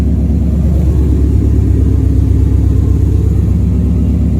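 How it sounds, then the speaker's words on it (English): Engine of a new car in gear with the clutch held to the floor and tires spinning, a loud steady close rumble with a pulsing low growl throughout, no speech. "Oh, it's in gear. Yeah, see, tires are spinning."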